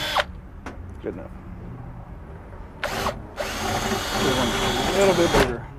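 Close power drill drilling out a truck toolbox latch, a few brief spurts and then a long loud sustained run that whines and shifts in pitch, with no voices.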